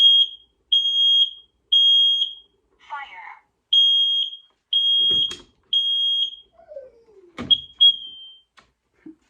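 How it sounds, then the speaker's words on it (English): A smoke detector is tested by pressing its battery test button, giving a series of loud, piercing beeps in a steady on-off rhythm. A few scrapes, a brief animal cry and a short rustle come between the beeps. "Most smoke detectors come with a button that you can push that should test the batteries"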